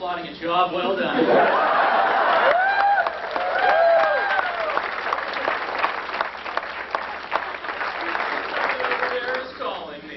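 A theater audience at a class of 1999 welcome show in Kirksville breaks into sustained applause mixed with chuckles and laughter, a dense crowd clapping that swells and then tapers, with voices talking over it.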